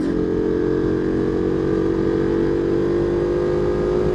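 A Ducati 1299 Superleggera road bike's engine drones steadily and loudly throughout, a sustained buzzing engine note with no speech.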